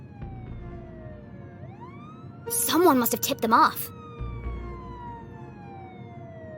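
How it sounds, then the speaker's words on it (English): Distant police sirens wail in the video game Jenny LeClue, faint rising and falling tones under ambient hum, with a louder burst of mid-clip sound and a voice speaking over it. "Jenny could hear police sirens in the distance."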